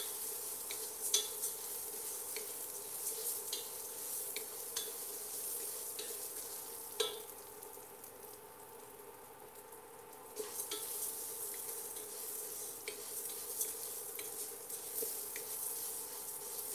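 A red bell pepper fries in a pan with a steady, close sizzle, and a utensil stirs and scrapes it with occasional light clicks throughout; no one talks.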